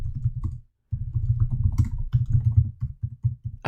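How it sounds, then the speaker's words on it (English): Rapid clicking of a computer keyboard while a Linux install command is typed, a dense run of close, crisp keystrokes with one brief pause near the start. "So we do that by typing sudo"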